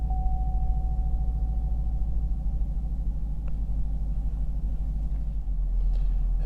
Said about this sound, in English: this has a nice little bark to it when you start this thing